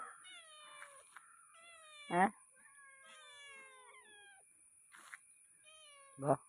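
Several cats meow in turn while waiting for a fish seller, with two loud, close meows standing out over softer, overlapping mewing throughout.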